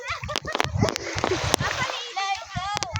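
Water splashing and sloshing at Cobrador Beach as someone bathes, with irregular close splashes and gurgles, a voice and other chatter over the top.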